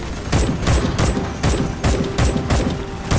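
Loud bursts of video game gunfire from Starship Troopers: Extermination in a steady rhythm, about eight rapid volleys with short gaps between them, sounding close and punchy.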